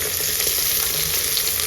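Chopped vegetables including okra and brinjal frying in a pan, salted and stirred, give a steady close hiss of sizzling across the whole stretch with faint stirring scrapes and no voices.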